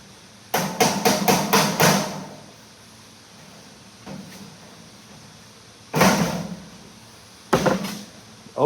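Hammer tapping down a sheet metal plenum seam: a quick run of about six sharp metallic taps, then single taps after pauses, close and distinct with no talk.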